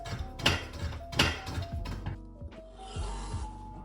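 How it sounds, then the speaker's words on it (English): A knife chops chocolate on a board in a few sharp, uneven strikes with soft scraping and a faint clink between, close and fairly quiet, with no talk. "we wanna just chop our chocolate"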